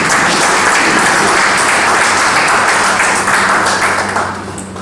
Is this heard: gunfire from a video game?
no